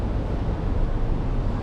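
Steady, rumbling wind buffets the microphone with a continuous low roar throughout, outdoors in Taipei, Taiwan, with no voices.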